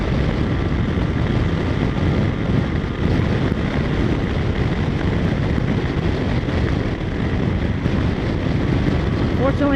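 Steady, loud wind buffeting and roar on a Yamaha FJ-09 motorcycle ride, filling the whole clip as a constant rushing noise with the engine underneath.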